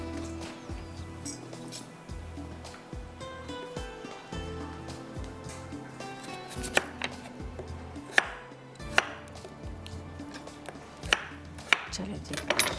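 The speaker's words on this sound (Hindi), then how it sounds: "आलू बड़ा वाला है तो इसके मैं टुकड़े कर लूँगी" A large potato being cut into pieces on a board, a series of sharp knife taps in irregular bursts, some louder clacks standing out, close by with light kitchen noise between.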